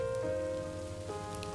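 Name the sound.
rain falling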